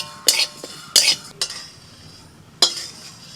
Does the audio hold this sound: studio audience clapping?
no